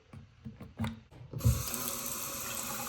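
A faucet is turned on after a few knocks and handling sounds, then water gushes steadily and loudly into a sink, with no voices.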